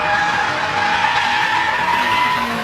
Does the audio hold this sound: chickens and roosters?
no